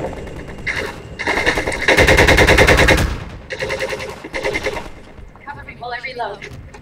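Rapid automatic gunfire in Half-Life 2, loud sustained bursts of shots with brief gaps between volleys, ending on a muffled clatter, close and dominant.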